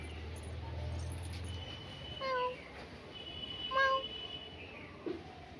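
A small cat meows twice, short rising calls with a pause between, then a faint third sound, over a low background hum.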